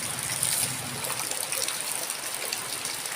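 Rain falling steadily on a rainy day beside a farm field readied for planting yellow corn, a continuous broadband hiss and patter holding at an even, moderate level throughout with no voices.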